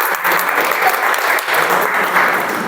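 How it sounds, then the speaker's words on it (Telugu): Audience applause at a premarital counselling session: dense, steady clapping from a crowd filling the whole stretch at an even loudness, with no voices over it. "చప్పట్లు కొట్టండి"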